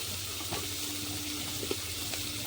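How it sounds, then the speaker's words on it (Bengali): Fish heads frying in oil in a home kitchen pan, a steady close hiss of sizzling with faint clinks of stirring, no voices. "এবার মাছের মাথা ভাজা চলছে"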